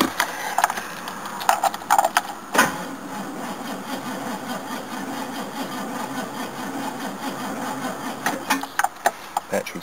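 A Jaguar V8 with a weak battery cranks slowly and labours steadily through a cold start, with a continuous churning drone and a few sharper clicks near the start and end.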